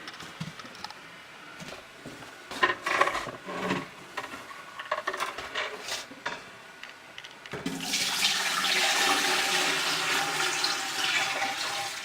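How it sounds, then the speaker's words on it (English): Handling noises and clunks, then river water pours steadily into a Berkey water filter with a full, rushing splash. "But I'll go ahead and pour it into the filter."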